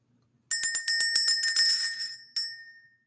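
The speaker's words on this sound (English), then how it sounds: "Let's ring the bell." A small ringing bell sounds in a spiritual reading session, a quick run of about ten bright, close strikes that fade, followed by one final ring that decays into silence.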